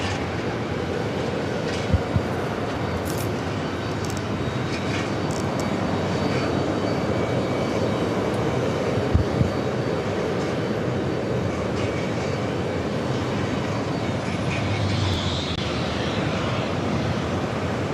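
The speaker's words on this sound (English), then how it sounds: "Pakistan Airways flight 102. It's a 787-8 Dreamliner now starting this taxi." Pakistan Airways Boeing 787-8 Dreamliner beginning to taxi at JFK toward runway 4 left, a steady broad jet engine roar heard from a distance with a few faint knocks.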